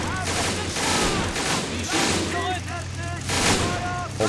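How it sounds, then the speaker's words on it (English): Nebelwerfer rocket artillery firing in a WWII battle in Men of War: Assault Squad 2, a loud fusillade of repeated launches and blasts with whooshing rockets over a low engine drone, a voice talking over the din. "And the Nebelwerfer, I believe, fired again."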